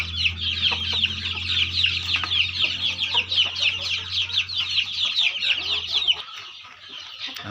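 Fighting cock roosters at a breeding farm cluck and crow steadily in a dense, continuous chorus throughout, with a low hum underneath.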